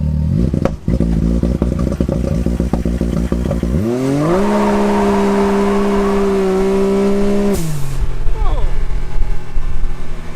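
A Can-Am X3 with a two-step launch control and new clutch springs sits at high idle while boost builds, then its engine surges into a loud rising rev with a rough exhaust roar and a sharp launch, close up.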